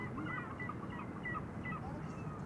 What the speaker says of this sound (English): K1 is using its sound effect board, hoping to chase away birds.